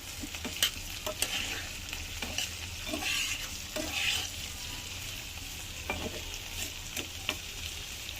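Vegetables fry in a pan for khichuri, a continuous soft sizzle broken by scraping and stirring strokes of a spatula at close range.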